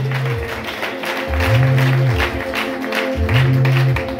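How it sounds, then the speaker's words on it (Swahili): A church congregation claps during a worship service, a loose wash of hand claps under sustained keyboard tones that swell and fade. "Piga makofi"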